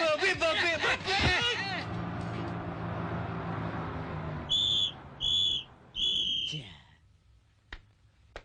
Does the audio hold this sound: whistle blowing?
yes